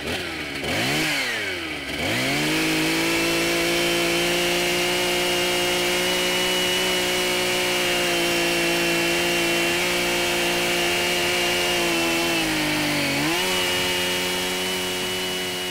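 Chainsaw cutting timber for wooden shipbuilding, the engine revving loud and close then holding a steady, heavy buzz through the cut, with a brief dip and rise near the end.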